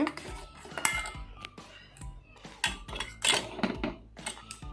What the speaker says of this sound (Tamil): கை எடுக்காமல் கலரிகிட்டே இருக்கணும் அப்படியே மீடியம் ஃப்ளேமில் தான் வைக்கணும்